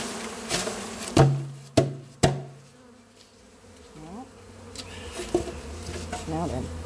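A swarm of young honey bees gathered in uncovered beekeeping equipment buzzes in a steady drone, broken by a few sharp knocks near the start.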